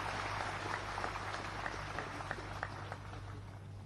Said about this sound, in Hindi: आप सभी की तालियों की गड़गड़ाहट के साथ उन्हें बुलाते हैं।